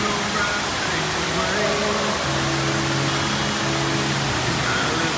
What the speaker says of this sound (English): You got a nice waterfall over there.